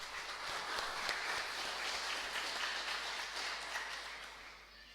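A church congregation applauds through a Pentecost service, a steady, dense wash of clapping that holds even and fairly loud before thinning out near the end.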